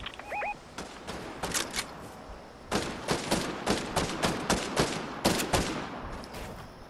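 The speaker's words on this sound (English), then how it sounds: "That's where the shots are coming from." Rapid gunfire in a Fortnite Duos match: repeated sharp shots in quick irregular bursts, loud and close, continuing steadily across the stretch with a brief electronic tone near the start.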